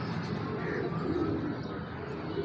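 A pigeon coos softly and low, a brief murmuring call close by with light background noise.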